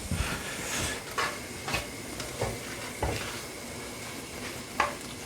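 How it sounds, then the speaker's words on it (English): Meat browns in a pot with onions and chilli for a Gambian domoda peanut stew, giving a steady close sizzle and hiss with occasional stirring scrapes. "The meat's just about browned. Mix it in with the onions and the chilli."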